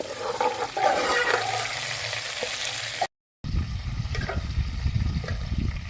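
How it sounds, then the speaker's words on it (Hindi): Chicken browns in a pan with a continuous close sizzle. A short cut of silence breaks it, then a bubbling, stirred frying sound follows, and no one speaks. "अब हम चिकन को करेंगे अच्छे से ब्राउन।"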